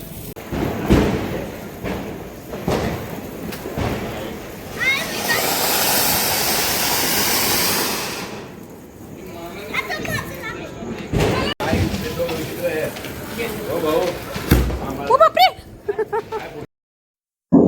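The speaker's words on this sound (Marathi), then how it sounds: "आम्ही इथे फटाके जे आहेत ते फोडून घेते" Firecrackers set off outdoors during a Lakshmi Puja celebration give scattered loud thuds and bangs, with a long hissing, crackling burst in the middle, while people talk and call out around them.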